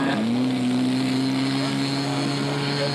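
Propellers on a scale model aircraft drone loudly and steadily, a buzzing tone that rises slightly in pitch at the start and then holds even, with speech faintly underneath.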